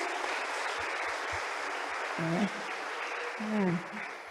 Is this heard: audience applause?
yes